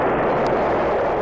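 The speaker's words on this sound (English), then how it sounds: "The crash of gunfire" Sustained crash of First World War artillery and rifle fire on the battlefield at Gheluvelt, a dense continuous roar with no pauses, loud and close throughout.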